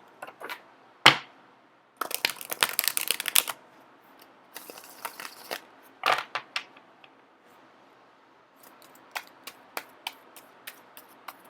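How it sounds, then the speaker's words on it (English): Tarot cards shuffled in repeated bursts of rapid riffling and flicking, separated by brief pauses and a few soft taps and slaps. "I am going to keep shuffling until the first card pops out"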